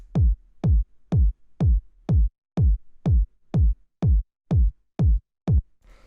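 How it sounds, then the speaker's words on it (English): Deep 909-style electronic kick drum from a minimal house track, a booming thump with a pitch drop, repeating alone at a steady four-on-the-floor pulse of eleven hits, near and loud. "After that we have the kick, which sounds like this."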